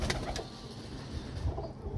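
Pigeons in their loft coo in low, throaty, overlapping murmurs, close by and continuous, with no speech.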